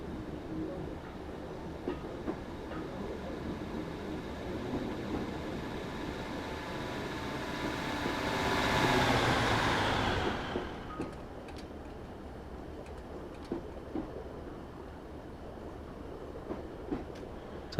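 A Class 150 diesel unit coasting on the Norwich to Lowestoft line in Train Simulator 2016 gives a steady low rumble with faint clickety-clack of wheels on rail joints, swelling into a louder rushing passage midway before settling back.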